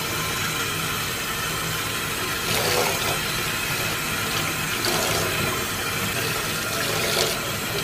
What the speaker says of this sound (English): just rinse it until you don't see any more dirt falling in the sink